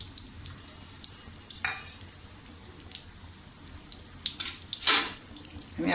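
Soya chunks, two bay leaves and curry leaves dropped into hot oil in a kadhai for tempering, giving a steady low sizzle broken by sharp clinks and splashy bursts, with a louder crackle near the end.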